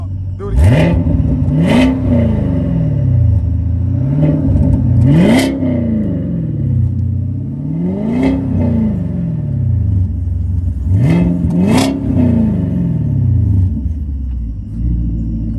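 A Chevrolet Camaro SS with an upgraded exhaust system revs up close and loud, with repeated rising and falling throttle blips producing a deep, rumbling roar.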